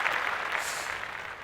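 A short canned applause sound effect, a dense, even burst of many hands clapping at moderate volume that holds steady for about a second and a half with no voices over it.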